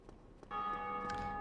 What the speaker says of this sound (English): Whenever you hear a bell in the game, that is another player online.